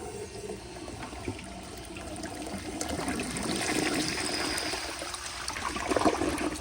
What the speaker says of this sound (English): that was just the diaphragm closing because it was dry